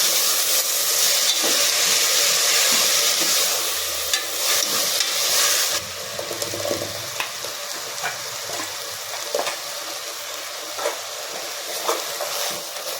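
Sprouted beans fry in a hot pan while a spoon stirs and scrapes through them, the frying hiss softening partway with repeated clinks.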